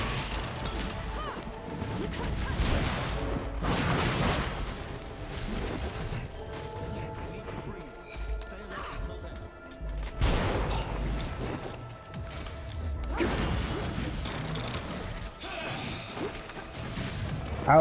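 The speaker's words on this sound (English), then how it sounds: "So now I'm using my grenades." Repeated grenade explosions in the boss fight against Inaya in Flintlock: The Siege of Dawn: loud crashing blasts every few seconds, mixed with whooshes and impact thwacks in a busy combat mix.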